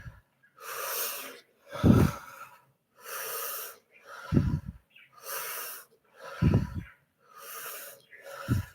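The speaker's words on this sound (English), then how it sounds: "I'm really like soaking up oxygen like a sponge with the breathing technique" Deep, rhythmic breathing exercise for blood oxygenation: long, loud inhales alternate with short, forceful exhales through the nose, repeated about seven times close up with no talking.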